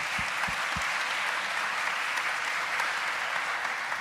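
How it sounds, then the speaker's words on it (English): Steady audience applause at a panel discussion on American democracy, a dense, even wash of clapping held for the whole stretch, fairly faint and distant, with a few low thumps at the start. "yes, applaud."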